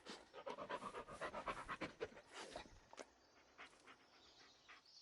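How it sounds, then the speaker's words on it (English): Dog Bullet panting rapidly in the Blair Witch video game, close and rhythmic for about three seconds, then quieter breathing and faint shuffling steps. "Yeah, good dog."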